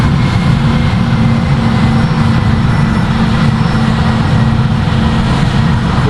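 British Airways Airbus A320 climbing out after takeoff in Project Flight, a steady, loud roar of airliner engines with deep low rumble and broadband hiss, continuous and unchanging for several seconds.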